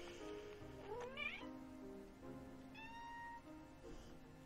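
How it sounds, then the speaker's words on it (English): A house cat in a hotel room lets out two short, rising meows about a second and a half apart, faint and close against a quiet room hum. "That's my cat."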